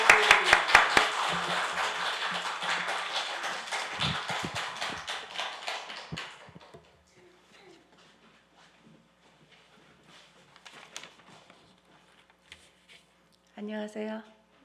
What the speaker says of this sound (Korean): 힘찬 박수로 환영해 주시기를 바랍니다